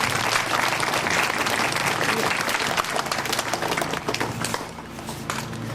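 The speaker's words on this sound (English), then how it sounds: "give a big round of applause to the Department of Forestry for their community activism" An audience gives a round of applause at a community recognition event, dense steady clapping that stays strong, then thins slightly toward the end, with a few voices murmuring underneath.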